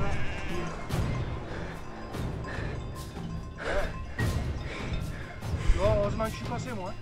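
A flock of sheep guarded by a Pyrenean mountain dog bleats over and over, many overlapping calls near and far, with occasional thuds and shuffling in between.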